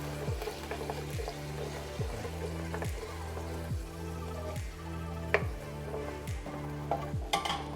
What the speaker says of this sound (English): drop in the coconut milk. Give that a good stir.